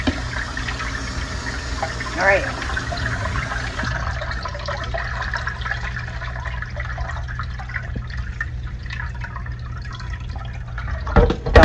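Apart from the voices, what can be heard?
tap water running, rinsing vegetables in sink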